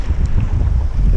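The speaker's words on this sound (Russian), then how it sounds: "Еще волна, ветер." Steady wind roar with waves washing and sloshing close by on a boat in the Gulf of Vyborg, continuous and fairly loud throughout, no voices.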